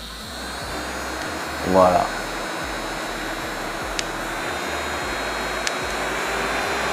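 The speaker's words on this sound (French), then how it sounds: "il faut d'abord allumer le ventilateur" A small portable neck fan with three speeds runs at first speed with a steady whirring hum and faint whine throughout, close to the microphone, with a brief French spoken word early on.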